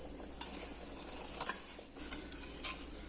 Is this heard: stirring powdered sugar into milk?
yes